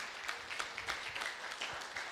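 A retreat audience breaks into applause heard from a distance, faint but continuous, with individual claps picking out a loose rhythm through the crowd noise.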